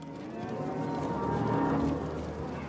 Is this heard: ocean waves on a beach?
no